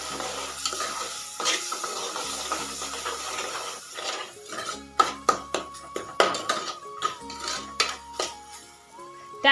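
Banana sheera mixture, a sweet semolina prasad with ripe banana, is stirred in a pan with repeated scraping strokes and clinks, over a soft sizzle that grows more rhythmic and pronounced.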